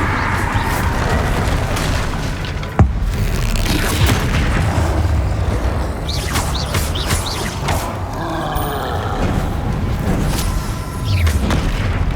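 Bombarda spell explosion in Hogwarts Legacy, a sharp boom cutting through a busy stretch of combat rumble, creaks and mechanical clatter, with further bursts scattered through the mix.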